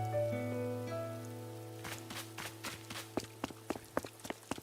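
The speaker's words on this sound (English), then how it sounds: "Oh, that rain is fantastic." Rain patters in a video game island with many waterfalls, a soft wash behind sustained musical tones, followed by light, evenly spaced footstep-like taps.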